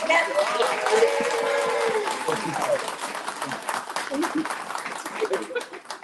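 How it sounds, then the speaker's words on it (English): A round of applause at an arts festival court gathering, clapping from a crowd mixed with voices and a little laughter, fading toward the end. "Can we get a round of applause?"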